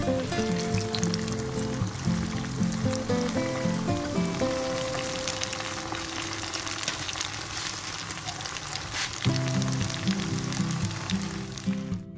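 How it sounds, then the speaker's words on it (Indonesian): Small homemade snack samples frying in hot oil, a steady close sizzle and crackle with bubbling that runs without pause the whole time, no voices. "Kita panaskan minyak dan goreng sampelnya sampai matang."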